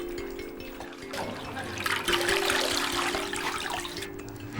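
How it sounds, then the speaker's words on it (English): Tap water pours steadily over blanched Chinese cabbage in a kitchen, a continuous close splashing rush that swells in the middle and holds with no voices. "Chinese cabbage is blanched and then cooled in tap water."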